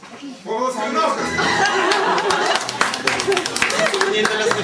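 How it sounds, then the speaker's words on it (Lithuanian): An audience at an evening event gives lively applause that swells after a quiet start and keeps up as dense, continuous clapping, with some laughter and chatter mixed in. "Prašau dar pasitikite audringas plojimais"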